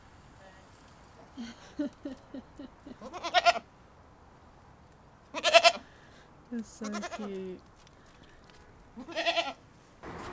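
Several goats bleat in short, wavering calls at a campsite near Amsterdam, some close by, with brief bursts of excited human talk and laughter between them.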